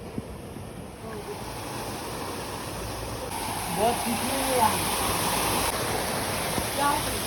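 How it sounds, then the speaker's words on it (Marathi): Shallow river water splashes and falls steadily at close range, a continuous broadband rush that swells slightly louder in the second half, with voices talking briefly over it. "हे बघा पाणी बघा पडतंय."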